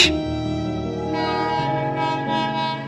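A loud train horn blares with sustained tones while the train rolls out, its rumble and whine steady beneath the horn.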